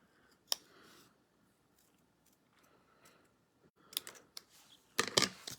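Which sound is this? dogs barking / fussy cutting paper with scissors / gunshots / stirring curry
fussy cutting paper with scissors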